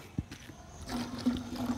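Water pours into a garden pump spray bottle, first a brief splash and then a steady, moderately loud rushing fill that runs to the end.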